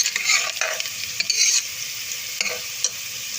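Browned onions sizzle in the pot of a pressure cooker while a spoon stirs them, giving repeated scraping strokes over a gentle frying crackle, close up and with no talk.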